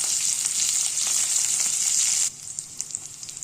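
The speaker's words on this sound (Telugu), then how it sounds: "స్టవ్ పైన ప్యాన్ పెట్టి ఆయిల్ వేసుకోవాలి. కొంచెం ఆవాలు, కొంచెం జీలకర్ర, వెల్లుల్లి, పచ్చిమిర్చి" Mustard seeds, cumin, garlic and green chilies sizzle loudly in hot oil in a pan on the stove, a bright hiss that drops suddenly to quieter crackles and pops.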